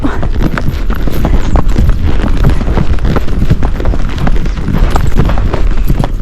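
Horse hooves clop steadily and loudly on a trail during a guided horse ride, a close, continuous rhythmic beat of footfalls with some wind or rumble in the background.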